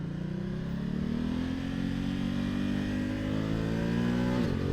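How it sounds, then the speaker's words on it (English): A 2020 Ducati Multistrada 1260S motorcycle engine revs hard and steadily, its pitch climbing through a long pull before a sharp drop near the end, loud and close with a constant rough exhaust drone. "My God, the power delivery of this motorcycle."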